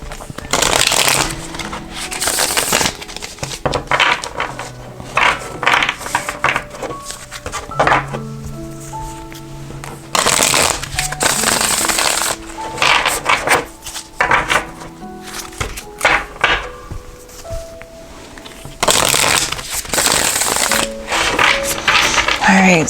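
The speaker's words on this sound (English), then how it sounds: "So I'm going to go ahead and shuffle the deck here." Repeated crisp riffling and flapping of a tarot deck being shuffled, in bursts with short pauses, close up, with light handling clatter between.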